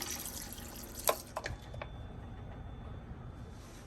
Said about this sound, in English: put a little bit of water in